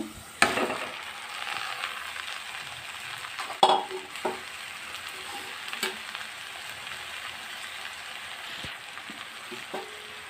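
Taro pieces fry in a pan with browned onions, giving a steady low sizzle broken by several sharp clatters and scrapes of stirring, with no talking.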